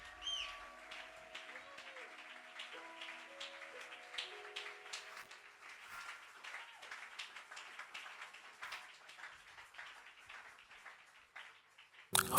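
A church congregation applauds at a closing blessing service, a steady, fairly soft patter of many hands with faint sustained tones underneath early on.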